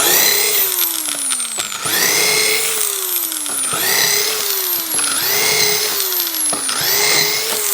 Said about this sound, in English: once you drill a hole, which we have right here